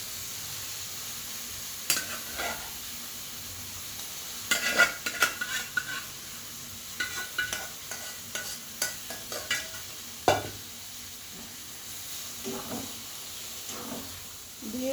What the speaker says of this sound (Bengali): ডিমের সঙ্গে, সমস্ত সবজির সঙ্গে, আলুর সঙ্গে আমি খুব ভালো করে মিশিয়ে নিচ্ছি